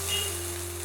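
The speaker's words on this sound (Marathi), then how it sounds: "व्यवस्थित मी त्यात तवा ठेवलेला आहे आणि त्यावरती थोडंसं पाणी शिंपडते।" Water sprinkled onto a hot tawa gives off a brief, steady, close sizzling hiss over a low hum, with no voices.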